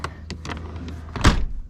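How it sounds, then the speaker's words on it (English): The door of a Swift Escape 674 motorhome gives a few light rattles and taps, then closes with one solid thunk nearby. "there's the door"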